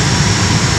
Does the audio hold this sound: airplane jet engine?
yes